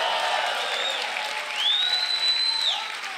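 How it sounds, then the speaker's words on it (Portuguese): Church congregation applauding, an even, continuous patter of many hands with a faint sustained tone drifting above it, swelling slightly in the middle before easing off. "Dê o melhor aplauso que você puder a Ele"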